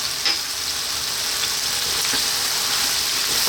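Spices, including paprika, cumin, chili and oregano, are stirred into chicken stew in a hot pan. A steady close sizzle and frying hiss continues throughout, with soft scraping from the stirring.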